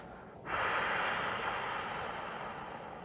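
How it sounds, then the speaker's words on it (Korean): During a core exercise, a person takes one long, loud breath close by. It begins abruptly and sounds as a sustained airy rush that fades slowly, with no talking. "들이마시고 내쉬고"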